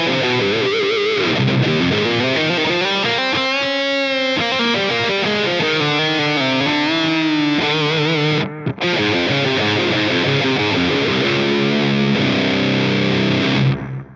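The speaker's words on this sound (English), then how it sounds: "I really like the analog echo delay" Distorted electric guitar run through a Line 6 POD GO on its analog echo delay, sustained chords and notes ringing for about fourteen seconds, with repeats smearing into a thick, continuous wash before the sound cuts off.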